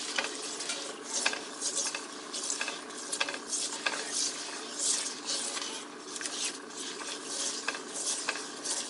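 A low-heat pan of butter infused for mint squares is mixed, giving soft repeated scraping and light clinks over a faint sizzle, close and fairly quiet with no speech.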